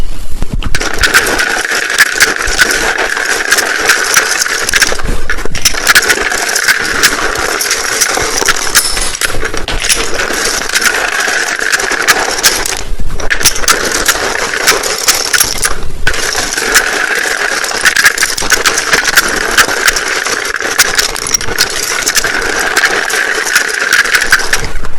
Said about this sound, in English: it can be a little bit loud when I shuffle these